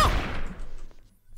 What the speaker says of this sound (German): Warum hast du auf mich geschossen, Fab?